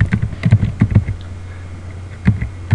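Bursts of computer keyboard typing during MySQL ODBC database setup, with a cluster of quick keystrokes, a pause over a steady low hum, then a few more taps.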